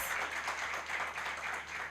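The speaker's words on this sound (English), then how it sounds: "a big round of applause" Dense, continuous applause from an audience at a live charity givers' gathering, a steady wash of many hands clapping with no single claps standing out.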